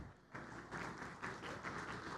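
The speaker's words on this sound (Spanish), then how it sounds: "Un gran aplauso para LexisNexis" An audience at a Digital Bank conference in Lima applauds a LexisNexis presenter taking the stage, a soft, distant wash of clapping that begins after a short pause and continues evenly.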